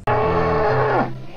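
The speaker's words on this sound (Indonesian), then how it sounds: "Dan juga 1 ekor kerbau." A water buffalo in Jurassic World Evolution 2 gives one loud, drawn-out moo that slides down in pitch near the end, with nothing else around it.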